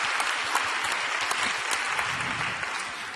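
A church congregation claps in thanks to Jesus Christ, a thick, sustained wash of applause from a large crowd at an even level throughout.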